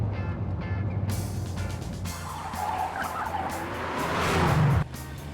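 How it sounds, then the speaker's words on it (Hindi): A car races fast with tyres squealing and skidding. A rising whine and road roar build to a loud peak before cutting off sharply near the end, with no speech. "ए वरुण, गाड़ी तो इतनी तेज क्यों चला रहा है?"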